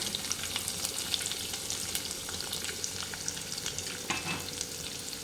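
Onion pieces frying in a pan with dried red chillies, giving a steady, close sizzle with occasional small crackles throughout and no talking.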